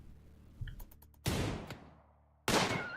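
Gunfire from a colonist shooting in the video game Rimworld comes as a few sharp, loud bursts with quick clicks between them, separated by short quiet gaps and with no talk.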